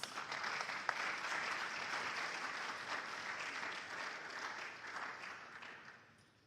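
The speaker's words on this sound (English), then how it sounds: "give me an applause" A primetime quiz contest audience of secondary school students applauds in a sustained, even wash of clapping that carries on for several seconds before tapering off at the end, with no voices over it.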